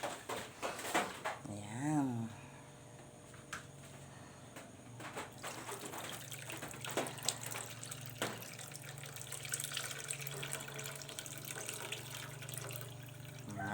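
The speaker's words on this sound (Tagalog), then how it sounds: "tapos ilagay na natin si gata" Coconut milk poured into a cooking pot of cabbage and lima bean seeds with shrimp paste, onion and garlic, a soft liquid trickle and splash running under clinks and kitchen handling, faint and close.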